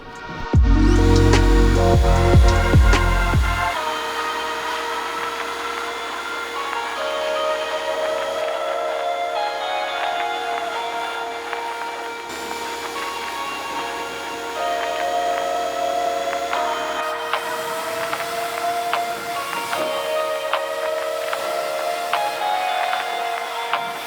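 Pressure washer spraying down a drift car, a loud hissing burst at the start and then a steady spray hiss with faint rattles, all close by and without talking.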